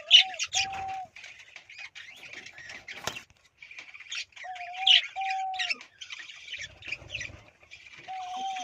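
Caged budgerigars chirp and warble busily, with repeated clear whistled notes over a dense chatter of higher tweets, near and fairly loud throughout.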